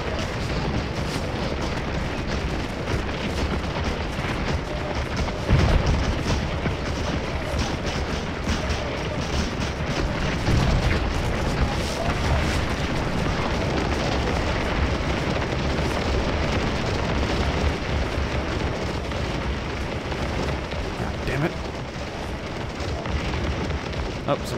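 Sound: artillery cannon fire in video game Scourge of War: Gettysburg

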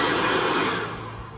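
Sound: mini electric cordless leaf blower vacuum running

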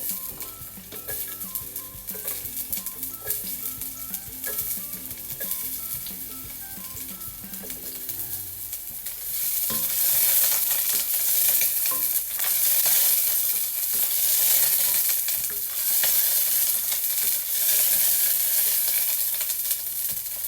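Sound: garlic sizzling in a pan

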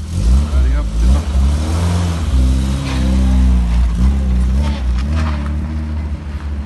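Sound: old car driving off, engine revving

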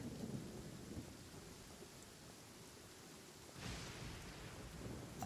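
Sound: thunder and pouring rain in the video game Genshin Impact

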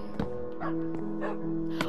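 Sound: dogs barking in the video game Minecraft

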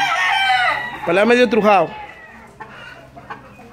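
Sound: fighting rooster (gallo)

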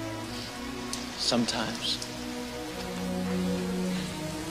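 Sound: rain falling

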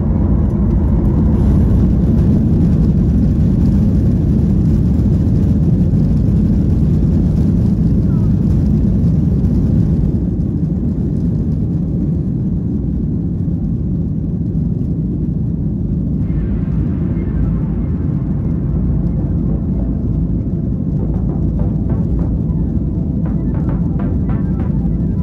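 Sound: jet engines heard from aircraft cabin

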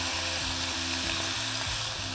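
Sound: burgers sizzling as they are pressed down with a spatula

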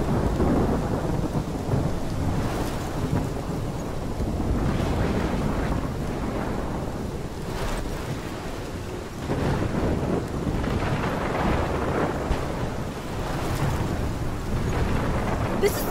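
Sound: thunderstorm with rain in video game Life is Strange

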